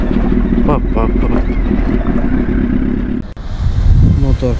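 A boat motor runs steadily at sea off a Moroccan beach, a loud continuous drone with wind and sea noise, while people talk over it throughout.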